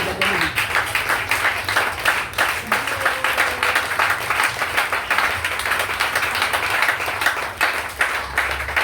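A church congregation applauds the Lord with steady, lively clapping that runs unbroken for the whole stretch, many hands close and loud.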